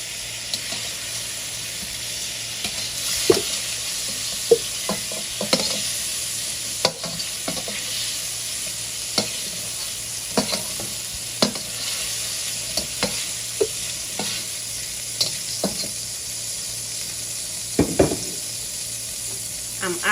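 Shrimp frying in oil in a pan, a loud steady sizzle at close range with scattered pops and the occasional clink of a utensil stirring.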